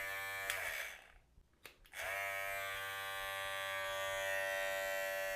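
Electric hair clippers switched on after a blade cleaning, giving a steady, loud buzzing drone with a brief dip and a rattling restart before settling into a continuous even hum.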